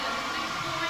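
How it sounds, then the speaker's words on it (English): St. Mary's fans stamp their feet on the gym floor at a 1999 girls AAAA provincial championship game, making a dense, continuous, loud rumbling roar that fills the whole gym. "That noise you hear is all the St. Mary's fans tapping their feet on the ground to try and make noise and throw Murdoch off her shot."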